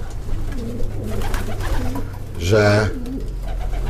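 Young pigeons cooing softly in a loft, low rolling coos repeating under someone speaking, with one fuller louder coo near the end.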